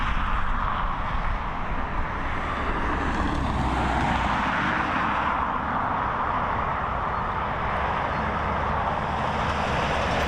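Steady broadband roar of a 17-year-old Ryanair airliner at Dublin Airport in the evening after its flight from Bristol, loud and continuous throughout with no voices.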